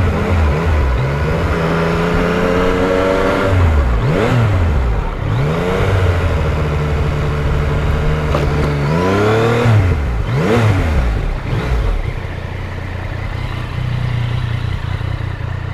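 A Yamaha MT-09 three-cylinder motorcycle is ridden on a hot day, its engine loud and close as it revs up repeatedly through the gears, with rising and falling pitch sweeps and brief throttle blips, then settling into a steady cruise.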